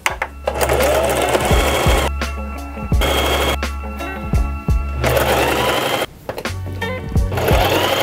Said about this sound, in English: I'm just gonna be stitching these two together at a half an inch seam allowance